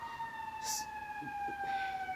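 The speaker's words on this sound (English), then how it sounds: "The sirens." A steady siren tone holds throughout, fairly distant and continuous, with faint traffic rumble underneath.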